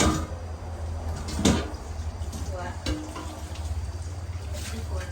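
Oil sizzles steadily in a hot pan while cooking Luang Prabang-style khanom chin, with a few clanks of stirring utensils and cupboard-like knocks, fairly close and moderate in volume.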